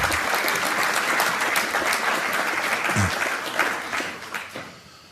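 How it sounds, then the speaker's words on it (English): An audience at a senior sports awards ceremony applauds the coaches with steady, dense clapping that holds, then fades near the end. "Let's have a round of applause, please,"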